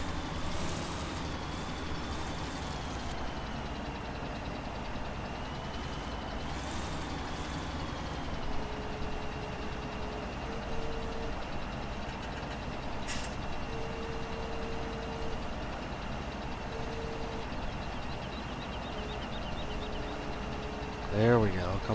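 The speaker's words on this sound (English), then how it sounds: "This is one of my favorite tractors." A Russian tractor in Farming Simulator 17 runs with a steady, low engine drone that holds throughout, with faint tonal notes above it and a brief clatter near the end.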